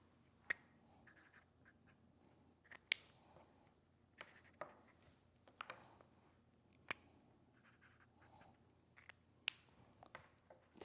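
A pencil writing on paper, with soft scratchy strokes broken by occasional sharp taps, quiet and close in a hushed room with no speech.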